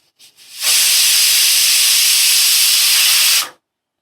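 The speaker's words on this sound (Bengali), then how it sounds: "দেখো একটা সিটি হয়ে গেল" A pressure cooker whistle blows while thor (banana stem) cooks in about half a cup of water, a loud, steady steamy hiss lasting about three seconds before stopping abruptly.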